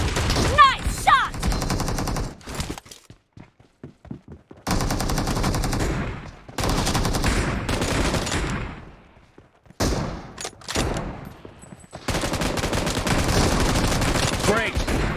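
Bursts of automatic gunfire from the mobile shooter BGMI in team deathmatch, loud rapid volleys broken by short pauses, several sustained strings of shots across the span.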